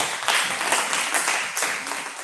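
Audience applause breaks out at a Hindi-Urdu poetry recital held for Gandhi Jayanti, a dense burst of many hands clapping, fairly loud and swelling in uneven waves over a couple of seconds.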